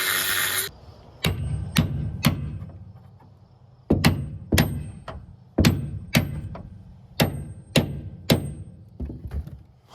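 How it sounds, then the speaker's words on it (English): Hammer strikes on a truck bed bolt of a wrecked 2016 Ford F350 Lariat: about a dozen sharp, loud metallic blows in irregular pairs and singles, each ringing briefly, with no talking. "I think we just hit it off with the hammer"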